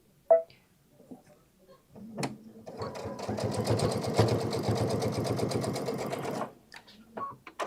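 Sewing machine stitching a bag, running in a steady rapid clatter for about four seconds at a moderate distance, with faint clicks and a short voice before and after.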